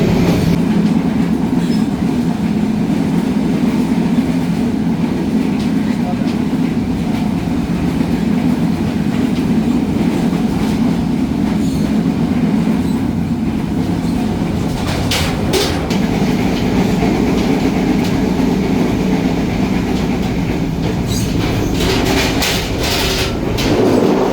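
The Banalata Express rolls from Dhaka toward Rajshahi as a loud, constant rumble of wheels on rails, with clickety-clack joints and some rattling bursts, heard from inside the moving train.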